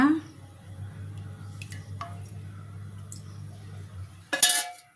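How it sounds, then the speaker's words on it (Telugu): A kadai pan lands on a lit stove with a sharp metallic clank near the end, after a steady low burner hum; cooking oil is being added in a home kitchen for paneer masala curry. "స్టవ్ వెలిగించి ఒక బాండి పెట్టుకొని స్పూన్లా నూనె వేస్తున్నా"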